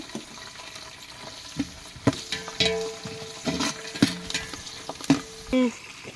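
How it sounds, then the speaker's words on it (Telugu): Curry leaves fry and are stirred in a pot over a wood-fired stove, with spoon scrapes and knocks recurring every second or so over a low, steady sizzle. "కరివేపాకు అయితే వేసుకున్నామండి వేసి ఒకసారి అయితే కలుపుకున్నాం"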